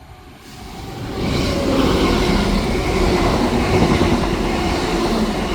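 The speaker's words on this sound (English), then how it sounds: "that's a East Midlands 170 from Liverpool Lime Street to Norwich" An East Midlands Railway Class 170 diesel unit on a Liverpool Lime Street to Norwich service passes at Heaton Chapel, swelling from quiet into a steady, loud roar of engine and wheels on rails that holds to the end.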